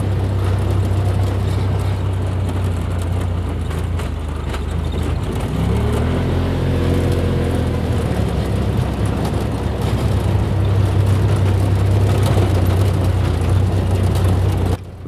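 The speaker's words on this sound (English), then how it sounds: "And we've got RZR Dave behind us in the Polaris RZR XP Turbo, just like the one we're in" Polaris RZR XP Turbo side-by-side driving on a West Virginia trail, a steady loud engine drone and low rumble running throughout with a brief rising rev in the middle.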